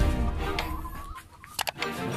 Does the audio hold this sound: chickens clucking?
yes